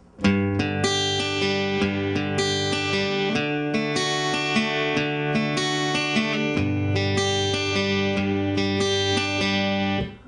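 Guitar chords ring out with notes picked one at a time in a steady, flowing arpeggio, clear and sustained, with no talking.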